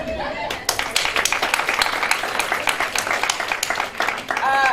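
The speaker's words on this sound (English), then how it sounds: "Big round of applause" An audience at a corporate summit applauds to welcome a speaker onto the stage, with brisk, dense clapping throughout and a voice speaking over it near the end.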